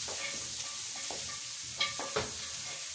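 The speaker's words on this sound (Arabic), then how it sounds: "هفضل اقلب فيها لحد ما الاقي اللون بتاع البصله معايا بقى حلو كده ذهبي" Chopped onions frying in oil as they are stirred toward golden, a soft steady sizzle broken by a few sharper spoon-and-pan scrapes near the end, with no voices.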